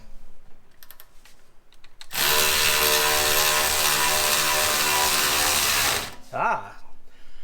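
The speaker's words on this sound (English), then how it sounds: "The electric ratchet, I think we're already tightening." Electric ratchet tightening bolts during a Kia Forte brake job: a loud, steady mechanical whirring buzz for about four seconds, starting abruptly and cutting off, with faint clicks and a brief voice around it.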